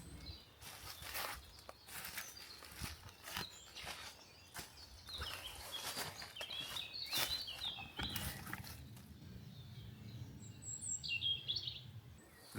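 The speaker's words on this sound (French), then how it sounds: "ce qui me frappe ici, c'est le chant des oiseaux" Birdsong in a ruined, ivy-covered hamlet in the Ain countryside, faint scattered chirps and short phrases at a distance, mixed with footsteps and light rustling close by.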